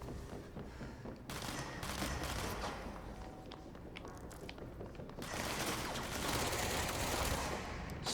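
Sustained bursts of gunfire from a weapon in the action game Control, a steady rattling barrage that eases mid-way and then swells louder again.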